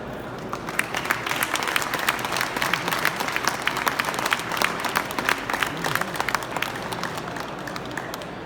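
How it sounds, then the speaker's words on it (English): Steady applause fills a hall at the 2020 Atlantic Canada Marine Industries Hall of Fame induction in Moncton, dense clapping of a seated audience continuing evenly throughout with no speech over it. "I think the ladies deserve a second round of applause"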